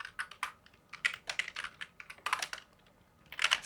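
Rapid, uneven clatter of keys on a newly switched computer keyboard during a coding session, with bursts of clicks and short pauses, close and fairly quiet, no voices.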